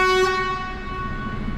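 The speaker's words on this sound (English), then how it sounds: "Definitely sounds like an air horn, doesn't it?" Air horn of a Mercedes 2548 truck, one loud, steady, multi-tone blast heard close up from the cab that cuts off sharply and leaves a low engine rumble behind.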